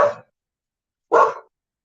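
Two loud, short dog barks close by, separated by about a second of silence.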